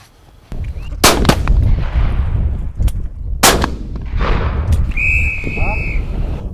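Shotguns fire at a pheasant shoot, two sharp loud reports about two seconds apart, with outdoor background noise and a whistle-like tone toward the end.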